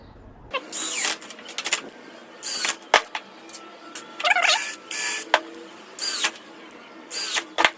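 Cordless driver sinking 3.5 x 40 screws into a wooden bookshelf: repeated short whirring bursts of a motor spinning up and stopping, separated by brief pauses, close and loud with no talking.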